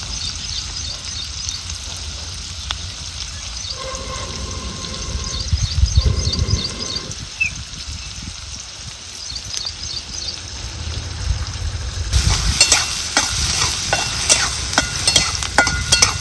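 Chopped onion added to hot oil with bloomed cumin, frying in a pan with a soft steady sizzle and occasional stirring scrapes, then a louder, brighter burst of sizzle near the end; no talk.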